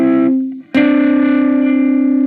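Electric guitar with a distorted, effects-heavy tone strums one chord shape, then after a short break a second shape rings out loud and sustained.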